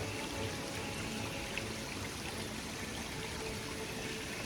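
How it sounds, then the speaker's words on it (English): Stream water flows outdoors on a hike near Bengaluru, a steady, even rushing and trickling wash that is fairly soft and continuous, with no voices. "This flowing water,"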